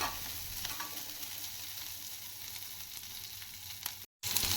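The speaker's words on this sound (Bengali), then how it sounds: "গ্যাসের ফ্লেম মিডিয়াম টু লোয়ে রেখে একটু নাড়াচাড়া করে গোল্ডেন ব্রাউন করে ভেজে নিচ্ছি যাতে রসটা শুকিয়ে যায়" A bharta mixture fries in a pan over a medium-low gas flame, stirred until golden brown. The sizzle is steady and close, with a brief break near the end.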